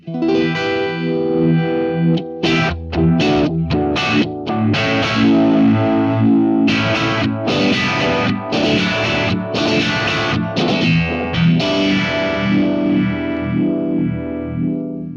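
A guitar runs through a classic vibe effect pedal, its warm, swirling, pulsing tone wobbling over strummed chords and single notes, played close and loud with a slightly driven edge.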